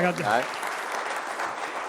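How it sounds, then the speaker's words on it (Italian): Applause for water polo on a sports radio show, soft steady clapping following a brief voice at the start. "Un applauso alla pallanuoto."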